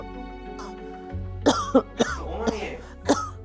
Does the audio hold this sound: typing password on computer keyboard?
no